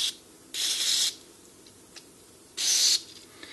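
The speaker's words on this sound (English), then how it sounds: "spray a little bit in each switch" Two short hissing bursts of aerosol contact cleaner sprayed into the switches of a NuTone Model 2057/2058 intercom under rebuild, each lasting about half a second, close and fairly loud over a quiet background.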